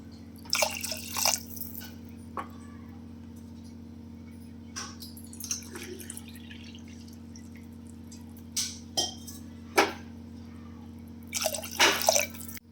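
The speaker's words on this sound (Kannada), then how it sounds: "ಈ ಕುಕ್ಕರಿಗೆ 3 ಲೋಟ ನೀರು ಹಾಕ್ತಾಯಿದ್ದೀನಿ." Water splashes and drips into a pressure cooker holding rice and lentils for dal khichdi, coming in short separate bursts over a steady low kitchen hum, with quiet gaps between pours.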